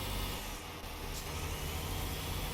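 A truck engine in the Euro Truck Simulator 2 game, a steady low rumbling drone with a brief hiss partway through, continuous and fairly quiet, with no talking.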